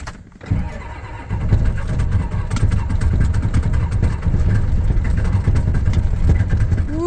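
Ford 6.9 IDI diesel in a bullnose pickup truck cranks briefly, catches and settles into a loud, steady, rough diesel idle close by, with no voices.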